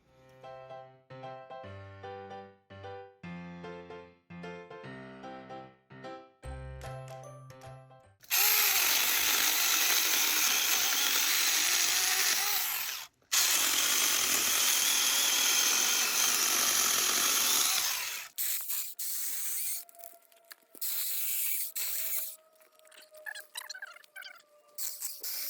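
Saker 4-inch mini chainsaw worked on by hand while its blade is retightened, with sharp clicking and ratcheting taps early on, then long loud bursts of buzzing motor noise close up, followed by intermittent mechanical clatter.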